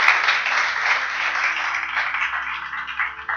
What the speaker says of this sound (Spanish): Bendecile con un fuerte aplauso a Dios si tú estás creyendo